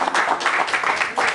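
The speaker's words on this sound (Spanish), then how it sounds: "Y un aplauso para la señora." Applause for a 103-year-old woman artisan from the Coatepec region at a public recognition event, a short burst of dense, steady clapping from a nearby crowd.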